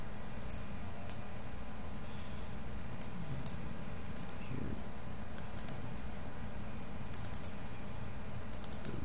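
Sparse, faint clicks of a computer mouse and keyboard, some single and some in quick pairs or bursts, tapping over a quiet room hum with no talking.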